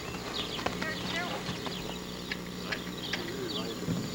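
A ridden horse's hooves clop in an irregular walking rhythm on firm ground, moderately close, mixed with birds and people talking nearby.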